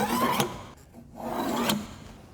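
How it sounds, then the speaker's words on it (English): Pencil or marker dragged along a straight edge across drywall for a patch, two scratchy rubbing strokes with a short pause between them, close and moderately loud with no talking. "I'm going to go ahead and draw a straight line here and here"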